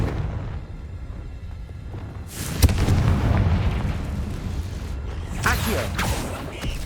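A Confringo fire spell bursts in Hogwarts Legacy with a sharp booming blast, followed by a rumbling crackle and a second fainter burst, over low ambient game sound.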